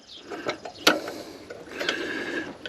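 A socket Allen wrench tightens the seat bolts on a Royal Enfield Meteor 350 in a few close, uneven bursts of ratcheting clicks and light metallic clatter.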